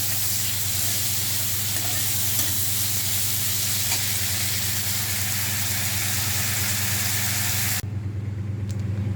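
Steady, dense sizzle of frying in hot oil in the pan used for shrimp, loud and unbroken with a low hum beneath, until it cuts sharply near the end.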